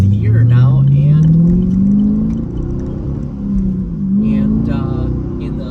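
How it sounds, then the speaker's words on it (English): A Camaro SS fitted with an MBRP Armor Lite exhaust drives along, its engine drone rising steadily in pitch as it accelerates, easing off, then climbing again, loud and continuous from inside the car. "This exhaust is perfect. Not too loud, not too quiet."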